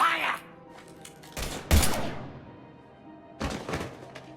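Gunfire in the video game Mass Effect 3, with a few loud bursts of shots and heavy booms in close succession, followed by another volley, mixed with game background noise and a brief voice.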